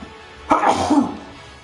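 A single close, loud sneeze, a short sharp burst that trails off quickly.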